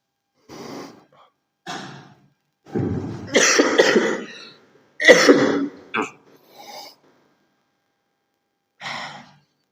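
A person with a three-day illness coughing several times in short, breathy bursts separated by silences, with heavier harsh coughs in the middle and throat clearing, close and alone.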